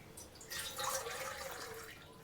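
Water splashes and trickles into a pot of lentils in a steady, soft pour, fairly quiet and close, with no voices.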